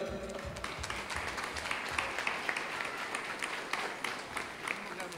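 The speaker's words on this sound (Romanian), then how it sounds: "avem doi mici frumoși, Mihai și Dana, pe care vreau să-i aplaudăm puternic, puternic, pentru că merită." Applause for the newlywed couple at a wedding reception in a hotel restaurant in Sucevița, a steady, dense crowd clapping that runs throughout, loud and close, with some voices mixed in.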